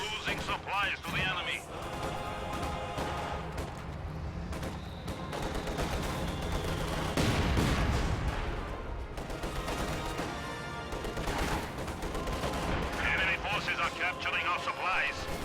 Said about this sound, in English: Guard rifles will win that engagement hands down. Mortars falling all over the place.